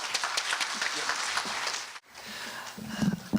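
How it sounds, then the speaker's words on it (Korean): Audience applause welcomes a staff member from the International Office at a Korea University engineering freshman and parents event: about two seconds of dense, steady clapping from a crowd, then a quieter stretch with faint voices. "박수로 맞이해 주십시오"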